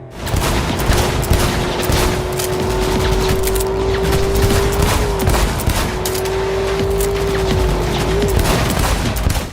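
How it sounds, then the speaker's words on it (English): Dense crackling gunfire and booming explosion bursts in a video game fill the whole stretch, loud and continuous, with a steady engine-like drone running underneath. "After a few very impressive explosions, we find a place to lie low"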